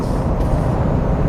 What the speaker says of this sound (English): it's Saturday and it's nothing but traffic on